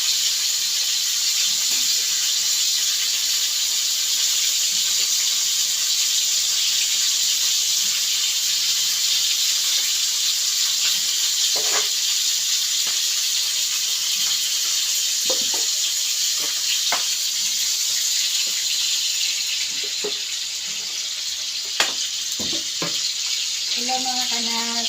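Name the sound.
food frying in a pan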